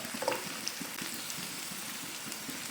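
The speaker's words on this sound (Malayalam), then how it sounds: "എണ്ണ നല്ല ചൂടായി വന്നിട്ടുണ്ട്. അതിലേക്ക് ഒരു മീഡിയം സവാള ചെറുതാക്കി അരിഞ്ഞത് ഇട്ട് കൊടുക്കാം." Chopped onion and garlic frying in hot oil, a continuous even sizzle and crackle close by, with no speech.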